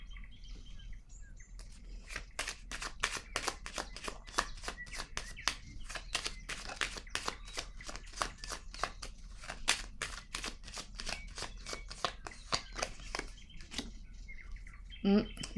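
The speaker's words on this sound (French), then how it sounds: "Je vais déposer une carte sur le pourrir." Tarot cards are shuffled and laid down in a rapid run of crisp snaps and flicks, close and fairly quiet, ending in a few soft slaps as cards land.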